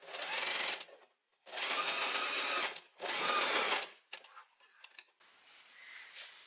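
Sewing machine stitching a dress bust cup with a long stitch length, three loud bursts of rapid stitching separated by short pauses, followed by a few clicks and a faint hum, no talk.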